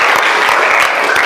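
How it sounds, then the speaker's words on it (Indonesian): An audience at a school gathering claps steadily and fairly loudly for about a second, a dense patter of many hands with no talk over it. "kita tepuk tangan untuk semuanya"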